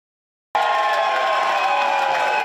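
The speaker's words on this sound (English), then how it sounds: "The crowd here at Shanahan's in Kings Park erupted into cheers as Donald Trump was sworn in as the 47th president" A crowd at a Trump inauguration watch party in a Kings Park bar bursts into loud cheering after silence, a sustained roar of voices and whoops that holds steady to the end.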